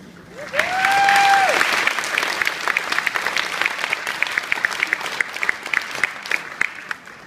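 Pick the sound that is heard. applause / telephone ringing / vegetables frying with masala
applause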